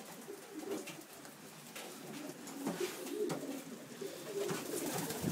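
Pigeons coo repeatedly in a homemade outdoor aviary at a loft in Puna, Hilo, Hawaii, soft throaty calls overlapping at a moderate distance over a steady bed of background noise.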